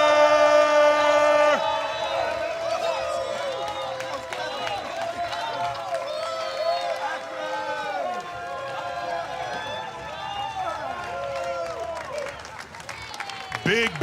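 A large crowd applauds and cheers for the Akron Fire team at the Northeast Region Classic, a loud, sustained roar with whistles and shouts layered over music, fading near the end.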